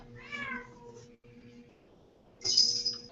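A pet cat gives a short meow near the start and a louder, higher cry after a pause, against faint background hum, with no speech.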